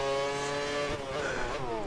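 Formula 1 race car in the F1 2013 video game at the Indian Grand Prix, a loud, steady engine whine with harmonic pitch shifting through gear changes, close and continuous throughout.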